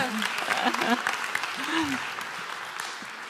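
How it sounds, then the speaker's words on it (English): Audience applause fills a hall right after a motivational speaker invites someone to step up, a dense steady clatter of many hands with a few brief voices and a whistle-like tone rising through it. "Big round of applause."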